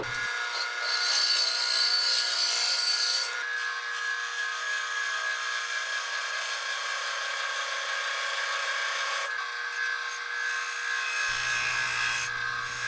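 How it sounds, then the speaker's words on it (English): A bowl gouge cutting across the bottom and up the sides of a wooden bowl spinning on a lathe, making a steady, close hissing scrape that shifts in tone a few times as the cut changes, with no talking. "I went back in with a bowl gouge to clean it up. First across the bottom and then up the sides."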